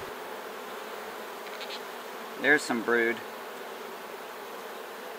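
Honeybees buzz in a steady drone inside a horizontal beehive during an inspection after winter, and a person speaks briefly over the hum partway through.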